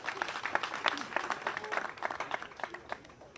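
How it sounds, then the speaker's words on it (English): Crowd at a gathering in Uganda claps briefly, fairly faint, quick uneven clapping with some spattered bursts. "let's give him a clap."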